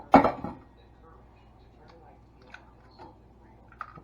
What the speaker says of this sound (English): 2 eggs, crack them, put them in the mixing bowl.